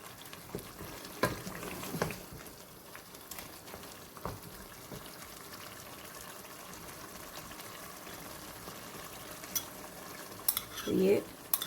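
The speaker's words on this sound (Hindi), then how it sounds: "थोड़ा से हम भून लें पहले 2 मिनट के लिए" Gobhi gosht, cauliflower and mutton, fries in a pan while being stirred, giving a steady low sizzle with scattered scraping and clinks from the spoon, and a louder stir near the end.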